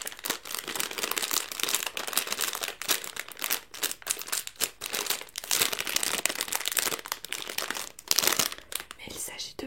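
Crinkling of a plastic packaging bag holding small scented candles, handled close up in continuous rustling bursts, with soft speech faintly under it.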